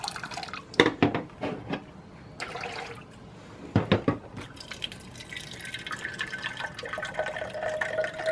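A bar soda gun pours syrup for a Brix test, liquid splashing and dripping in short spurts before settling into a steadier fizzing, trickling pour, close and moderately loud with no talking.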